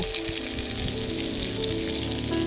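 Ridge gourd and spices sizzle steadily in a pan as water is poured in, a dense, continuous frying hiss close by with no voices.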